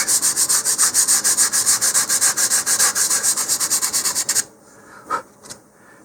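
Hand sanding on a wooden Estes Green Eggs model rocket part, a steady rhythmic back-and-forth rasp of close, even strokes for about four seconds, then stopping, followed by a couple of faint light scrapes.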